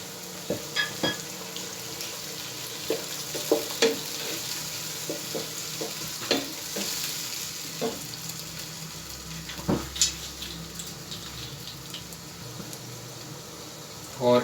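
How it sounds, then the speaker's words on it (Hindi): Onions and tomatoes sautéing in a pan for Pakistani dhaba-style fried mash daal, a steady sizzle with scattered stirring clicks and spatula scrapes throughout. "प्याज सौते करने के बाद इसमें हमने में टमाटर ऐड कर देनी है।"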